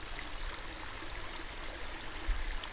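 A small stream trickles and flows over rocks outdoors, a steady broadband rush of water held at an even, moderate level throughout with no voices.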